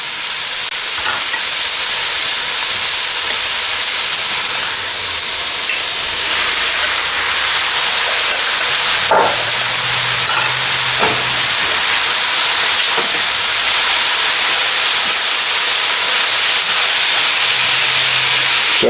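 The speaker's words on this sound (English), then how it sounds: "When the mushroom slices start to soften up and change color, that's when you throw your meat back in." Browned meat tipped back into a pan of softened mushroom slices throws up a loud, steady hiss of sizzling that runs the whole time, with a few faint scrapes and knocks of utensils.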